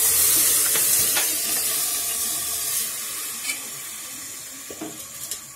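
Bone meat is stirred and fried with masala in a pan for the Kerala dish ellum kappa, giving a continuous loud sizzle with occasional scraping stirs close by and no talking.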